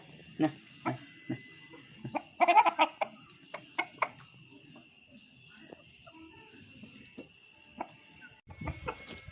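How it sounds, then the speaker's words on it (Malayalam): Four-month-old native backyard chickens cluck in short, scattered bursts close by, with a brief cluster of busier calls early on and a person's voice briefly near the end. "ഇതാണ് എൻ്റെ കയ്യിലുള്ള കോഴികള്"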